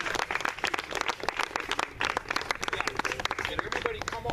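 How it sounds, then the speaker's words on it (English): At a campaign rally, an audience claps for a volunteer in dense, uneven bursts close by, with voices mixed among the clapping. "Warm round of applause for Delaney Ivy."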